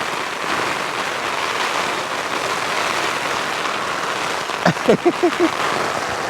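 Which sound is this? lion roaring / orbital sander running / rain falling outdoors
rain falling outdoors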